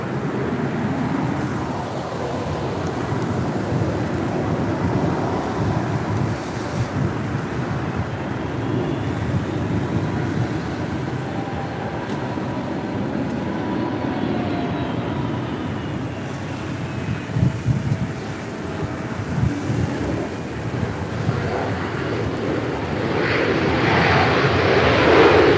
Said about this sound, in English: That is American Airlines 466 departing to Phoenix on an A320.